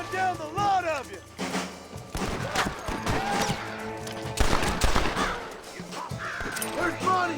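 Shootout gunfire in Red Dead Redemption: a cluster of shots and impacts mixed with shouting voices and game sound, fairly loud and busy, with bird-like calls at the start.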